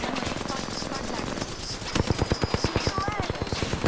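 Rapid automatic gunfire from the video game Apex Legends rattles in a fast, even stream of shots, loud and close, growing sharper in the second half, with excited voices talking over it.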